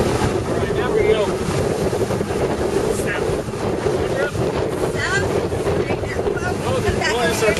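A Coors Light fishing boat being driven and turned on open water, its engine rumbling steadily beneath heavy wind buffeting and splashing waves, continuous and close with no clear voices.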